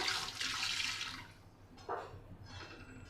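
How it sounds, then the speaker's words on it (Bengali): Tap water splashes into a metal bowl being rinsed in a home kitchen during fish curry preparation, a steady rushing pour for about a second, then a short splash and quieter trickling. "আমি একটু জল দিয়ে দিলাম বাটিটা ধুয়ে"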